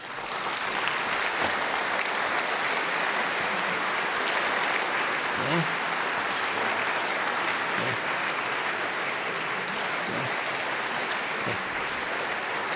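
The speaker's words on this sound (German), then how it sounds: "das ist ein Applaus wert." Sustained applause from the audience after a panel discussion at a Swiss public event, a broad, even roar of clapping that holds steady throughout, with a brief voice near the end.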